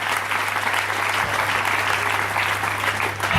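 A church congregation claps and cheers in dense, continuous applause at a worship service, sustained and fairly loud throughout with a low hum underneath.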